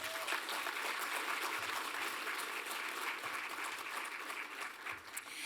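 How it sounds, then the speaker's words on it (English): Steady applause from an audience at a public talk event on philanthropy, a dense even patter of many hands clapping that holds for several seconds. "A round of applause for our audience tuning in from across Canada."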